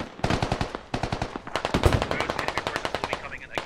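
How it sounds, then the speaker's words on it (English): Rapid bursts of automatic gunfire and single shots in the military shooter game Squad, loud and dense with short pauses, continuing throughout. "There are shots being fired, and it looks like we do have casualties."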